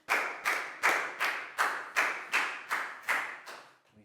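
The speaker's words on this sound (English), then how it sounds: "Big round of applause for Pat" A classroom of pupils claps in a round of applause for a classmate, about ten bursts of clapping in a steady rhythm, close and fairly loud, each swell fading quickly before the next, ending in a brief quiet.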